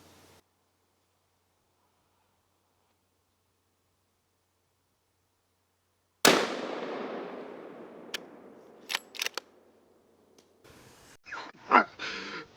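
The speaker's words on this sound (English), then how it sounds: "I forgot how loud this gun was. Shooting my 7 mag" A single loud 7mm magnum hunting rifle shot cracks out of near silence outdoors and rings off into a decaying echo, followed by a few sharp knocks and rustles of handling nearby.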